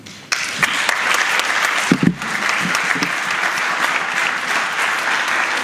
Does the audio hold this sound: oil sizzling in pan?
no